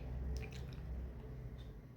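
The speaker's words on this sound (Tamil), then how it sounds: "நம்ம இந்த ஊற வச்ச சிக்கனை எடுத்து அதில் போட்டுற வேண்டியது தான்" Marinated chicken going into a hot oiled pan for a Hyderabad-style chicken gravy, giving a soft, steady wet squish and sizzle with a few brief moist pops near the start, close and fairly quiet, no voices.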